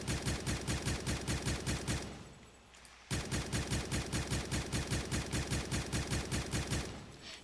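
A HAMR light machine gun from Ferullo's Guns Mod in Minecraft fires steady, evenly spaced automatic bursts, loud and close, stopping briefly midway before resuming at the same rhythm.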